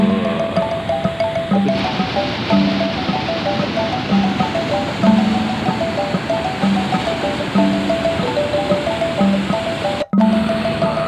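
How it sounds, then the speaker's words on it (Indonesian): Indian Ocean waves breaking on the west coast of Lampung, a loud, continuous surf roar heard up close with a repeating tonal hum over it and no voices. "Oh, itu tuh ombaknya luar biasa tuh"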